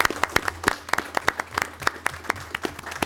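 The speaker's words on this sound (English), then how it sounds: "Another round of applause to all our men and women in law enforcement." Audience applause in a county commissioners' meeting room honoring law enforcement officers: a brief round of scattered, crisp hand claps from a modest crowd, fairly close and uneven in rhythm, with no talking over it.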